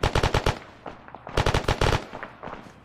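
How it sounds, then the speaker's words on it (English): Rapid bursts of automatic gunfire in the military video game Arma 3, close and loud, with quick volleys of shots separated by short pauses. "They started to shoot us just when you opened fire."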